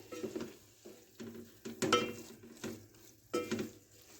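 Rajasthani-style aloo methi salan stirred in a pan after adding ground garam masala and chopped coriander: a spoon scrapes and clatters against the metal in a few irregular bursts, close and moderately loud, with no talking.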